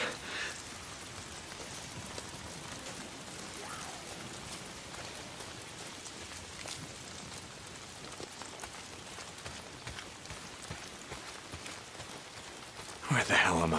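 Steady rain in the video game Days Gone patters and hisses continuously, with scattered sharper drops throughout and a brief louder burst right at the end.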